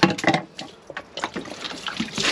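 Puriclean cleaning solution is emptied out of an Aquarol water container, giving a gurgling, splashing pour with uneven glugs close by, no voices over it.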